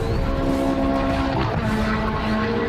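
A Ferrari 430 engine gives a loud, steady exhaust roar with a deep droning tone, holding constant throughout with slight pitch shifts, close and continuous.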